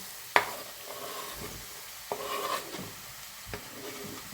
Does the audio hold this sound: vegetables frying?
yes